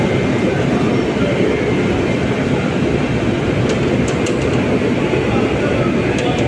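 A double-decker train with non-AC coaches rumbles steadily along the track between Chennai and Bengaluru, a dense low roar with a few faint high clicks and squeaks, loud and continuous throughout.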